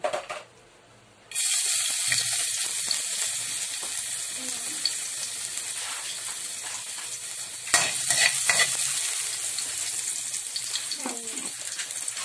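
Chopped onion sautéing in hot oil in a pan (kawali), a steady loud sizzle that starts abruptly after a quiet moment and continues with scraping stirs, one louder burst near the middle.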